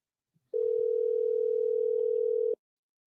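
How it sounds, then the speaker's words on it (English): A steady telephone dial tone sounds alone while a phone call is placed, holding at one unbroken pitch for about two seconds and then cutting off abruptly, with near silence before and after. "I'm going to give them a call back."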